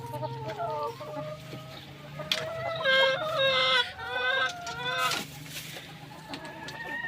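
Laying hens cluck and squawk in a busy chorus, with a rooster-like call rising briefly above the flock, close by and fairly loud throughout.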